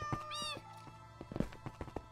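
A cat in a video game gives a short rising meow near the start, followed by soft in-game thunks and clicks, fairly quiet, with no talking.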